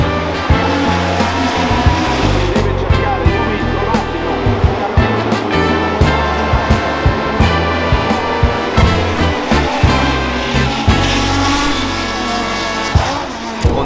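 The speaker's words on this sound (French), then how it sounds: "les voitures font un bruit de fou" Loud historic racing cars at the Monaco circuit, deep roaring engines with revving and bursts of throttle, continuous and close, layered with several engines at once.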